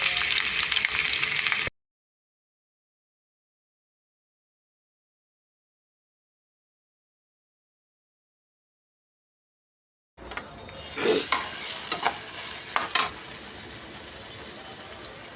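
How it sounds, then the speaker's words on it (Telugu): Green chillies and onions fry in hot oil for a curry, a close sizzle that cuts out into a long silence, then returns with clinks and stirring knocks from the pan. "పచ్చిమిర్చి ఉల్లిపాయలు బాగా వేయించుకోవాలి"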